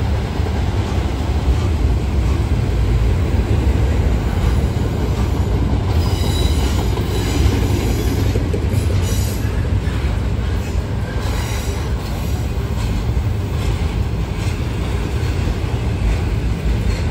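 An intermodal freight train rolls past close by, steady and loud throughout, with a continuous wheel rumble, rhythmic clacking on the rails and occasional high wheel squeals.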